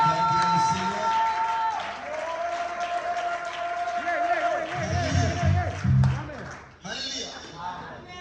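A church congregation applauding and cheering for Jesus, with clapping and crowd noise beneath someone speaking loudly, ending in a short burst of voices.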